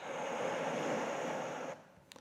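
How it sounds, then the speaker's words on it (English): Ocean waves in a brief burst of steady, broad surf wash that cuts off abruptly, leaving near silence with a faint tap. "I have some ocean sounds"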